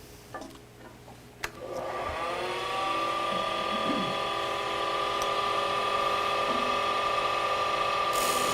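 A lathe or power tool spins up and runs steadily, making a full radius cut on a globe ornament with a loud, continuous whirring whine. Brief knocks come before it starts.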